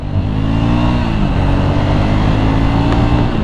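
A Triumph Scrambler 400 X motorcycle pulls hard through first, second and third gear, its engine note loud and close, climbing and dropping as each gear change comes in a continuous run.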